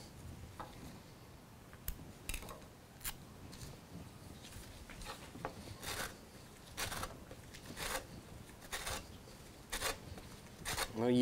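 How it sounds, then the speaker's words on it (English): An orange being zested on a rasp grater: quiet, dry scraping strokes repeating in a steady rhythm about once a second, close up with no talking. "Before I go ahead and cut the orange, I'm going to go ahead and get the zest off of it."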